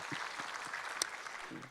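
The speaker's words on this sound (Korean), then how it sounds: "우리 하나님께 감사와 영광의 박수를 드리겠습니다" Brief applause from a church congregation during a Korean worship service: soft, even clapping heard from a distance for a couple of seconds.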